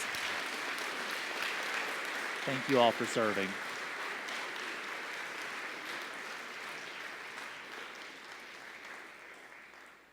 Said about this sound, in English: Can we give them a round of applause for their service?